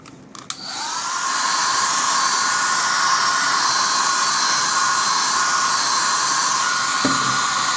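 A heat gun blows onto vinyl wrap, switching on with a brief click and then holding a loud, steady, hissing whine.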